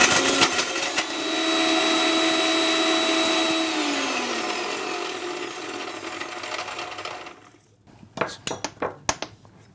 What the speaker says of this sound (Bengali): এরপর আমি এখানে মশলাটা ভালো করে গুঁড়ো করে নিব